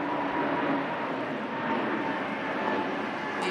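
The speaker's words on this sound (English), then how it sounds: "EasyJet climbs out into the blue" An EasyJet airliner climbs out after takeoff from Manchester Airport, a steady, broad roar of jet engines holding level throughout without any talk.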